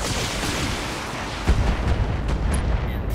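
Mech weapons fire in the BattleTech video game: a rumbling burst of heavy booming impacts and blasts, loud and dense, with a stronger hit midway and rolling explosion noise after.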